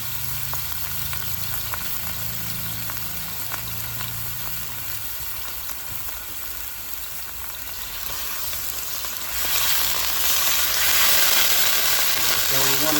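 An unseasoned steak sizzling in a hot oiled pan, a dense continuous frying hiss that grows louder in the last few seconds, with a low hum underneath and no talk.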